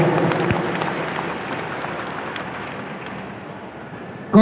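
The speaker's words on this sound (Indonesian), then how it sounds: "Tepuk tangan dulu untuk semuanya." Applause from an audience at a cooperative character-building workshop in Nganjuk, a loud steady wash of many hands clapping that holds for several seconds and slowly eases off.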